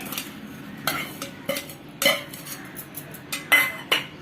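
A spoon scrapes and stirs ground gum resin and jaggery in a pan or bowl for millet ladoos, making a few separate soft scraping strokes with quiet gaps between them. No one speaks.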